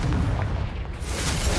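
A Confringo fire spell blasts in the Hogwarts Legacy video game, a loud, dense rumbling explosion with a brief dip and then a renewed roaring burst.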